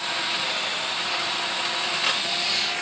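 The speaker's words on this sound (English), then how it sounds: "You're using a chainsaw" A chainsaw rigged onto a stick cuts into a tree, giving a steady, loud, continuous motor roar throughout with a slight surge near the end.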